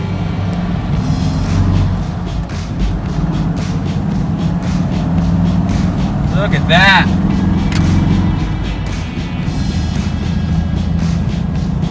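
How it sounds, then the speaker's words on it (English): A gray 1988 Toyota FJ62 Land Cruiser truck engine idles steadily and close by with a low, even rumble, recently fixed after a distributor fault; someone speaks briefly over it and a short whistle-like tone rises midway. "Gray truck's running like a champ."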